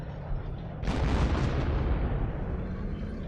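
Priest self-propelled artillery shelling in a video game, a single heavy boom landing about a second in, followed by a long rumbling, crackling decay that fades slowly.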